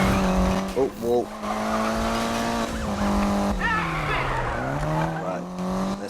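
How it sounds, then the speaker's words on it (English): A Mitsubishi Evo in a Need for Speed video game skids through a handbrake turn, tires squealing with wavering pitch over a loud, steady engine drone. "Let's do a bit of handbrake turn, do a switcheroo on that police guy."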